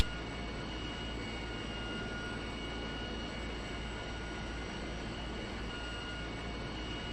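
A Sikorsky Sea Stallion helicopter engine in a flight simulator game gives a steady, dense, unbroken turbine drone with no talk.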